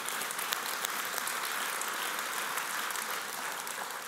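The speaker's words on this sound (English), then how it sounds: "It's a big clap." A church congregation claps together in a steady, fairly distant round of applause that continues evenly for several seconds without talk over it.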